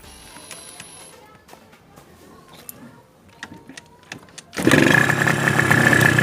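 A Yamaha TZR motorcycle, its ignition coil just replaced, sits quiet with small clicks and clatter before the two-stroke engine suddenly catches and roars into a loud, buzzing, sustained idle.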